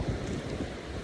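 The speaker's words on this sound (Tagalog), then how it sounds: "Pero lakas ng dagat, nakakatakot. Alon pala, alon." Strong sea waves breaking at a beach, a close, steady roar of surf and wind filling the moment with no voices.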